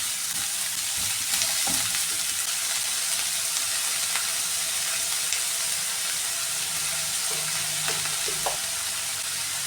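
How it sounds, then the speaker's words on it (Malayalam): Sliced onion, green chilies and curry leaves fry in a pan for bitter gourd thoran, a dense, steady sizzle close by with a few soft stirring knocks scattered through it. "ഇനി എടുത്ത് വെച്ചിരിക്കുന്ന ഈ സവാള അതും കൂടി ഇട്ട് കൊടുക്കുകയാണ്. പച്ചമുളകും കറിവേപ്പിലയും."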